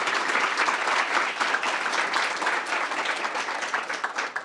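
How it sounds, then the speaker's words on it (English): An audience at a graduate student orientation gives a panel a round of applause, a loud, even wash of many hands clapping that holds steady and tapers slightly at the close. "So if we can give them a round of applause."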